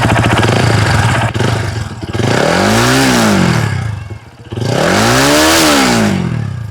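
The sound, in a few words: Lifan KPT 4V motorcycle exhaust sound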